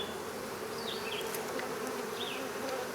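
Honeybees buzz steadily around an open hive box after a nucleus colony is moved in, a dense continuous drone filling the whole moment at close range, with no talking.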